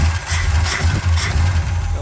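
A 1966 Dodge Coronet's engine idles steadily on its own, a slightly limping, uneven low rumble with a faint ticking, close and continuous throughout.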